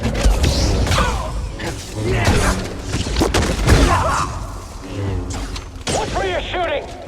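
Blaster fire crackles through a Star Wars Jedi Fallen Order game scene, with sharp repeated shots and impacts mixed among voices talking over dense background action.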